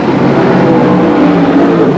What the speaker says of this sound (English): here comes Dennis Diekman in the 98 car.